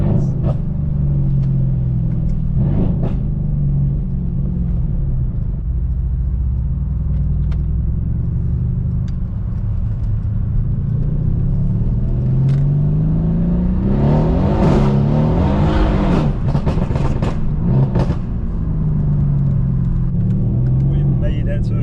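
A tuned Mercedes C63 AMG with about 630 horsepower rumbles deep and steady from inside the car, its engine revving and rising in pitch mid-way, with someone talking over the engine noise.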